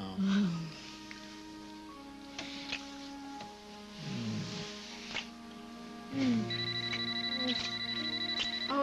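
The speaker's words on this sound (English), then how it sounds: "Even more reason not to answer the phone." A home telephone rings in a soap-opera scene: several electronic rings at intervals, tonal and moderately loud against a quiet room, with soft background music.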